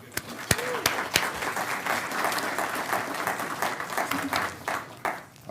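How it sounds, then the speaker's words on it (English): An audience gives a round of applause for Kelly, a Chamber member, at a gathering: steady dense clapping throughout, with a few sharper claps standing out near the front. "So let's give a round of applause for Kelly."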